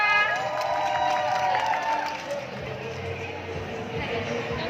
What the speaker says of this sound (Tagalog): Alicia, palakpak for Alicia.